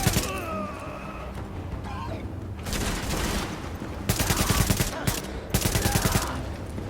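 Rapid automatic gunfire in the shooter video game The Division, dense crackling bursts that come and go over several seconds, loud and close, with bursts growing sharper toward the end.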